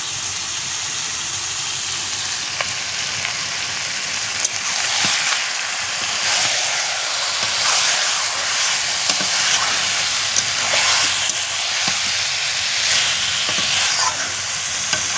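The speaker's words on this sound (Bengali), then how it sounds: "এদিকে উনানে রান্না করছি, দেখো জোড়া উনুনে ভাত হচ্ছে আর চিকেন হচ্ছে" Chicken curry and rice cooking side by side on a twin clay stove, a steady close sizzle with stirring scrapes running throughout, no talking.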